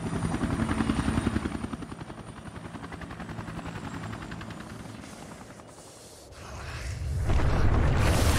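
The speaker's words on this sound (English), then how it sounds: "I'll cover you from the chopper!" A helicopter in the Resident Evil Revelations 2 video game thunders close by with a steady rapid rotor chop, dipping slightly and then surging louder again, with no talk over it.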